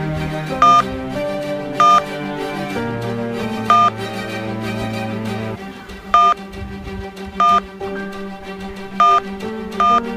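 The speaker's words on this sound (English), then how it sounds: "Please enter the phone number to get your unique tracking code." Telephone keypad tones from entering a number on a phone-finder site in Elmwood Trail, roughly eight short evenly spaced beeps over a loud, steady musical background.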